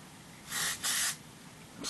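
Hairspray hisses onto freshly curled hair in two close, short bursts, the second slightly longer, with quiet room tone between and no talking.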